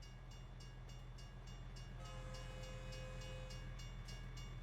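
A train rumbles past in American Truck Simulator, a steady low rolling drone with rhythmic clacking, and a horn-like tone enters midway and holds for a couple of seconds, fairly faint and alone.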